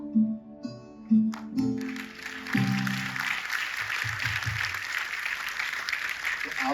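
An audience applauding at an RCM Gamma Oryzanol training session, a soft wash of clapping that builds and then holds steady, while a voice and some musical tones sound at the start.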